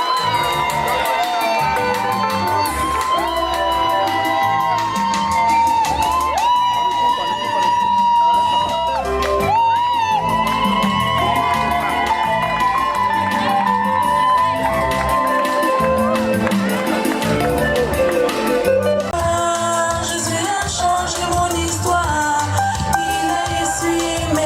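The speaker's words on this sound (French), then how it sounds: "Sous vos acclamations." A crowd at a customary wedding in Gabon cheers and shouts continuously over loud music, the celebration noise steady and dense throughout.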